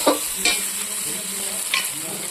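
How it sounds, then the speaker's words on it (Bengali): Green peas and spice paste sauté in hot oil with a close, steady sizzle, and a spatula scrapes the pan in a few sharp strokes; no one speaks. "মটরশুঁটিটাকে এই মশলার সঙ্গে বেশ খানিক্ষণ কষিয়ে নেব"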